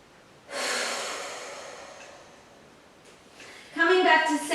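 Deep Pilates breathing during a back and shoulder stretch: a long, loud breath that tapers off slowly, then after a pause another strong, forceful breath near the microphone.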